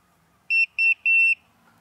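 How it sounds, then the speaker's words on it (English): Drone signalling its radio connection with three clear electronic beeps, the last one held longer, loud and close against near silence. "You can hear the drone actually now beeping to you."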